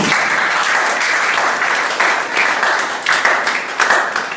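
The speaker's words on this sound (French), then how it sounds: "Donnez une acclamation au Seigneur." A church congregation applauds in praise during a worship service, a dense wash of many hands clapping with slight surges throughout.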